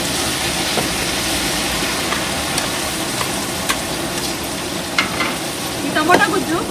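Tomato pulp is tipped into a pan of fried masala for a Telugu pepper rasam and chicken fry. A steady, dense sizzle fills the clip, with scattered scraping taps and a brief louder crackle near the end.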